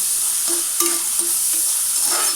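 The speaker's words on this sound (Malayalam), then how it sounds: "എനിക്ക് വെളിച്ചെണ്ണ ഒഴിച്ച് കൊടുക്കുക എന്നിട്ട് ചെറിയ ഉള്ളി ചെറുതാക്കി കഷ്ണം വെട്ടിയിട്ട് ഇട്ട് കൊടുക്കുക" Chopped small onions frying in coconut oil for a pumpkin leaf tempering, with a constant bright sizzle and about five light spoon-stirring clinks spaced through it, no voices.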